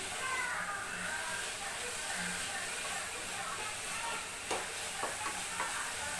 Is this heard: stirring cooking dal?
yes